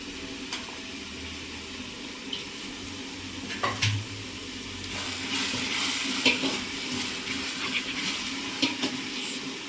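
Vegetable biryani masala sautéing in a pan over a wood-fired stove: a continuous close sizzle with scraping stirs and occasional clatters, growing louder and busier in the second half.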